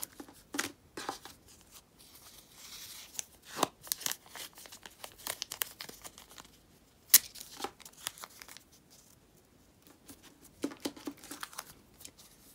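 Washi tape torn off and wrapped snugly around plastic-wrapped photocards, heard as close, intermittent crinkling and tearing bursts with short quiet gaps between.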